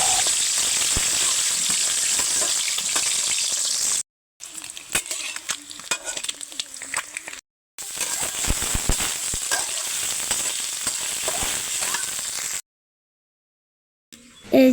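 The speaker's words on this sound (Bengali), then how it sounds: "ডিম ভেজে নিচ্ছে এবার আলুও ভেজে নেবে" Small new potatoes fry in oil after quail eggs for a bhuna curry, a loud continuous close sizzle with crackling pops and occasional stirring, cut by two brief silent gaps and ending in silence.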